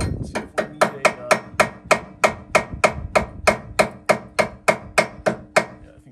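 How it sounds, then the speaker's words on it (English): Slag is chipped off a fresh weld on a replacement leaf spring hanger for a 2018 Grand Design trailer, with a fast, even run of sharp metallic taps, about three per second, close and loud. "Slag's chipping out pretty easy, which is a good sign."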